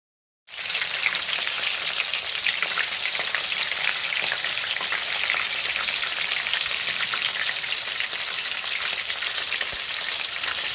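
Bacon fries in a pan for carbonara with a loud, continuous crackling sizzle that starts abruptly and holds steady throughout, with no voices.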